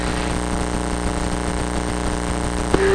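A light aircraft's piston engine drones steadily at close range, a constant low harmonic hum with a brief click near the end.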